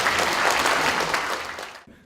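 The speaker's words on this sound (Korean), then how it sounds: "자, 큰 박수 부탁드립니다." A room full of guests at a book launch gives a dense, loud burst of applause that fills the space, then fades and stops abruptly just before the end.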